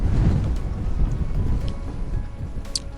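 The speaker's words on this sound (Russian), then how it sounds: "Сильный ветер. Вообще сильный." Strong wind buffets the microphone in a steady low roar, rough and gusty throughout with no let-up.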